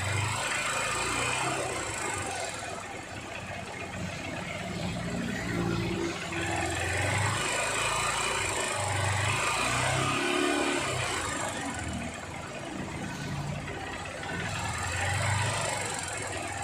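A Honda Unicorn motorcycle engine revving under light throttle, a steady low idling chug with a few gentle rises in revs, close and fairly quiet.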